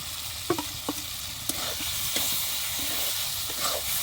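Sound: snail meat added to frying spice paste

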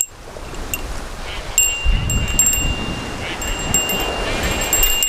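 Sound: wind blowing on the beach

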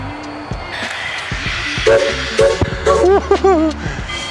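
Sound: train in a train yard

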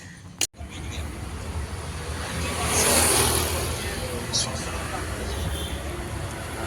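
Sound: auto rickshaw arriving and stopping outside gate

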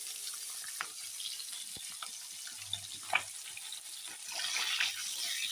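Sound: tangra fish frying in hot oil

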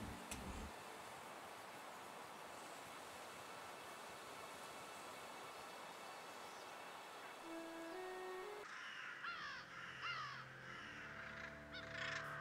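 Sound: crows cawing in the video game Doggone

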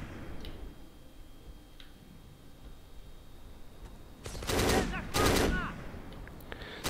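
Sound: gunfire in the video game Black (Xbox)

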